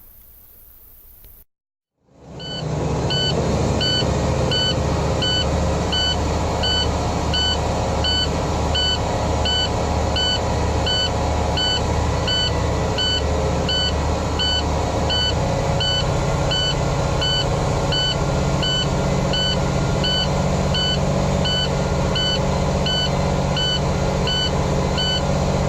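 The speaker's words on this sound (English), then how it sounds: "low air light and buzzer are functional." A truck's low air pressure warning buzzer, a steady, continuous electronic buzz with a repeating high beep pattern, running unbroken over a low engine drone.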